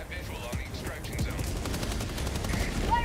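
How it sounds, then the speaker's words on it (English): Rapid bursts of mortar and weapons fire in the video game Helldivers 2, a dense, continuous barrage of booms and crackles with excited voices talking over it. "The mortar just went ham."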